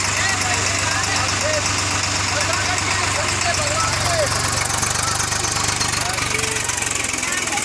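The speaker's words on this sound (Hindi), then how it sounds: "हम गाड़ी के द्वारा सफ़र कर रहे हैं।" Vehicle engine running steadily while travelling on the road to a shrine in Jalalpur, Chhata, Mathura, a continuous loud drone with vibration throughout under constant background rumble.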